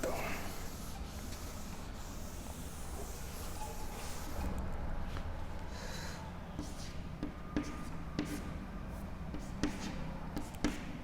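Handwriting during a physics lesson on nuclear energy: a continuous, dry scratching of pen or marker running throughout, with small irregular strokes and taps over a steady background hiss.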